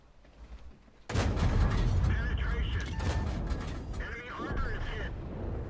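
An enemy tank's cannon shot in a tank video game: a sudden loud blast after a second of quiet, followed by a long rumbling, mechanical tail, with a voice talking over it.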